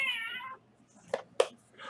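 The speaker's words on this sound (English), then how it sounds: "Exploding Kittens is a card game that I got the box with the meows from the Kickstarter." Cat meows from an Exploding Kittens card game box, a drawn-out meow at the start followed by two short, sharp meow chirps and a final call, close and fairly quiet against a silent background.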